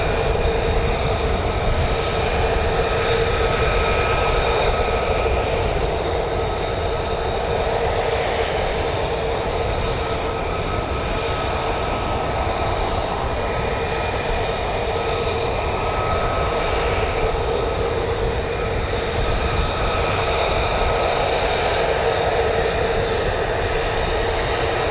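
F-35A fighter jet engines roar at RAF Lakenheath, a loud, broad, steady rumble with a sustained whine that holds without a break for the whole stretch, and no voices over it.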